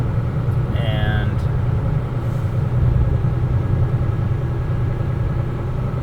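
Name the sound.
truck engine idling while building air brake pressure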